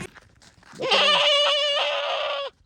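A single goat gives a loud, close bleat lasting over a second and a half, with a wavering, quavering cry, preceded by faint background rustling.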